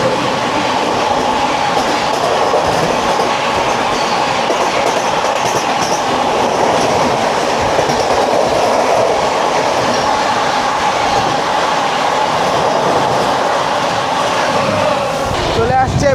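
The Hazrat Nizamuddin–CSMT Rajdhani Express (train 22222) rushes past on Indian railway track, a loud, steady roar of wheels and rail clatter for the whole stretch, with a brief squeal near the end.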